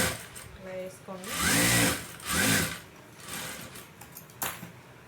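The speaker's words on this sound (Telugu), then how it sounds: "దీని మీద కూడా ఒక కుట్టు రానివ్వండి, నీట్గా ఉంటుంది." A sewing machine stitching a size 32 blouse runs in short bursts with a whirring mechanical hum, close by, while someone talks over it.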